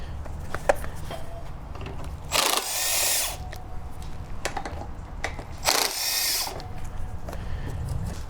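A power tool spins out Torx bolts fitted with spacers on a Kohler EFI engine, giving two loud bursts of whirring with ratcheting clicks between them, close up, over a low background hum; no talking.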